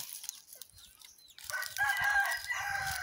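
An Asil gamecock crows loudly and close by, a long strained call rising out of quieter farmyard background noise.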